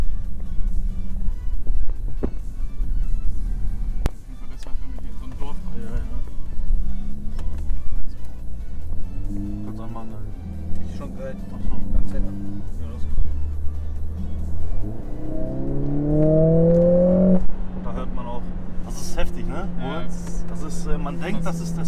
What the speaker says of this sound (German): Der Sound von innen ist so laut, aber es kommt durch die Boxen.